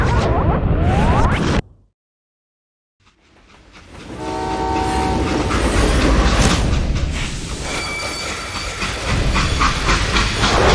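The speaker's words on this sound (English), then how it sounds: "how'd they stop this train in the first place?" Train in the Western shooter game Call of Juarez Gunslinger: a loud rumble and steam hiss, then a sudden drop to silence, after which a steady rail roar builds with harmonic whistle-like tones, all without speech.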